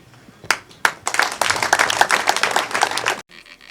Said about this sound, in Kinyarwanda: ndasaba ko dukomera Imana amashyi tukamwakira